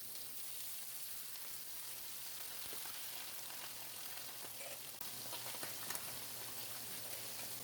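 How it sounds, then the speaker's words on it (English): Steady crackling sizzle of mullet frying in hot oil, continuous and close, with a few sharper pops. "Take out this mullet and fry out the rest"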